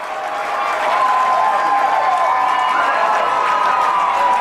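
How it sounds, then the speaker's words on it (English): A large crowd at a high school baseball championship game cheering and applauding, a loud sustained roar that swells and holds throughout. "And just listen to this crowd."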